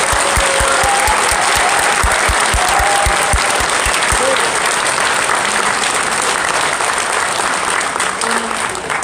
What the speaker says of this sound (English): So just give him a big hand of applause again.